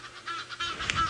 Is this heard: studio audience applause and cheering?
no